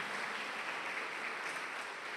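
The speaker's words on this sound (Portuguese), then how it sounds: "Aplauda Jesus" Congregation applause at a church service fills the whole span as a steady, dense wash of many hands clapping, fairly faint and distant, with no talk over it.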